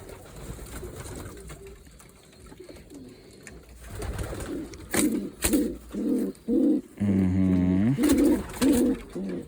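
Young pigeons in a loft coo in a string of short, close, rhythmic bursts after a quieter rustling stretch, one call drawn out and warbling, with no voices.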